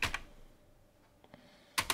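Computer keyboard typing while code is written: a few quick clustered keystrokes at the start, a couple of faint taps midway, then another loud burst of keys at the end, close and crisp with no talking.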